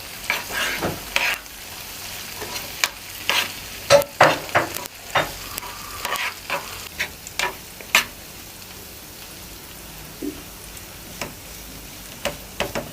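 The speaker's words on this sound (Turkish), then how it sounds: "böyle bir yandan kaşık yardımıyla eziyoruz. Macun kıvamına getiriyoruz" A spoon mashes boiled dry beans into a paste in a pan, giving repeated close knocks and scrapes in an uneven rhythm over a faint sizzling background, with no talking.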